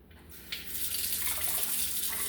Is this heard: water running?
yes